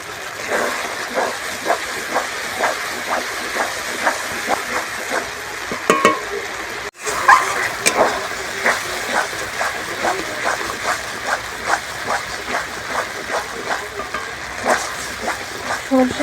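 Mustard-poppy paste with green chilli, turmeric and salt fries in hilsa fish oil, crackling loudly and continuously while a spoon scrapes the pan in a steady rhythm, with a brief clatter partway through.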